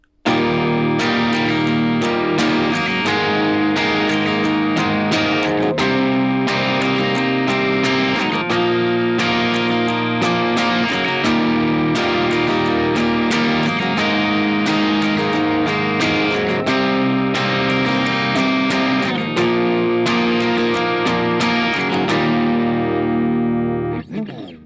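Electric guitar strumming the rhythm part of a chorus, steady distorted chords played continuously and loud for about twenty-five seconds, with no talking over it.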